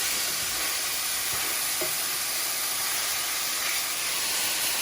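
Seasoned beef sears in a hot pot on high heat for a homemade beef soup, sending up a dense, continuous sizzle and steamy hiss with a few faint clinks underneath.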